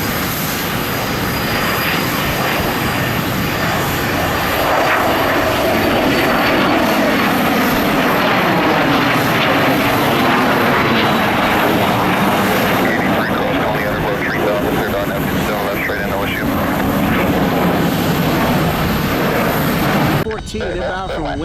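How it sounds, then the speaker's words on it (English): An Airbus A220 airliner arriving, its jet engines a sustained loud roar that swells and drifts past nearby for about twenty seconds before dropping away abruptly, with a voice talking under the noise. "Inbound from Windsor Locks, Connecticut. The Airbus A220."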